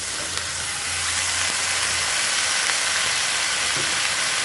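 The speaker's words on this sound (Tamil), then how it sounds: "இந்த காய் எல்லாத்தையும் இதோட நான் சேர்த்துக்கிறேன்." Boiled vegetables, including raw banana and drumstick cooked with dal, are tipped into a pot of simmering sambar, giving a steady close sizzle and steamy hiss that runs unbroken with no talk.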